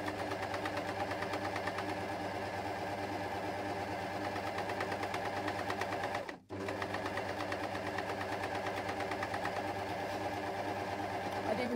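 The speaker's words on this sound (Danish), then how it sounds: "og så syr jeg lige en cirkel rundt" An air overlock sewing machine runs steadily while stitching around a round-cut cloth edge, a continuous whirring hum with one brief stop midway before it resumes.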